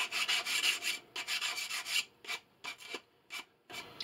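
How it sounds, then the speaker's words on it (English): Sandpaper rubs around the edges of a decoupaged holiday cookie plate in close, rhythmic rasping strokes, long and continuous at first, then breaking into shorter separate scrubs. "So I sandpapered all around the edges and it feels nice and smooth"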